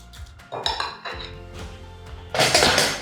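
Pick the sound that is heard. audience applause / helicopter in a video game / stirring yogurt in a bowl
stirring yogurt in a bowl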